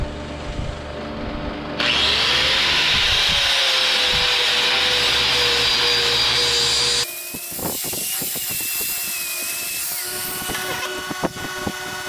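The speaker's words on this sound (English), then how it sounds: "Angle grinder." Angle grinder shaping a wooden smallmouth bass carving, the loud whine starting abruptly and grinding for several seconds, then cutting to a lower running hum with scattered knocks and scrapes.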